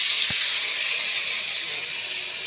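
Ground ginger and green chilli paste hitting hot oil over nigella seeds gives a steady, loud, broad sizzle that holds evenly throughout, with one brief low thump near the start.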